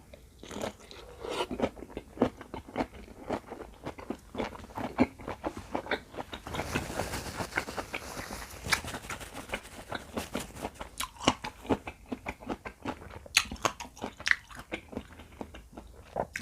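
Close, crisp crunches of someone biting into and chewing a fresh vegetable wrap filled with chili, repeating in a steady irregular rhythm throughout, with no talking.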